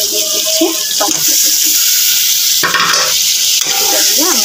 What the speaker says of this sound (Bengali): আমি এটাকে ভালোভাবে কষিয়ে নেব